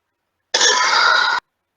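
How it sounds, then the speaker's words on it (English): A single harsh cough or throat-clear bursts out close and loud, lasting under a second, alone between silence. "I'm about to cough."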